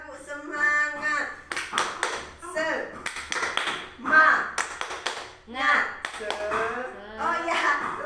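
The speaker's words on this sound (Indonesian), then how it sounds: "Tepuk semangat." A small group performs the 'tepuk semangat' spirit clap, rhythmic hand claps in short patterned bursts interleaved with chanted voices, repeated several times close up.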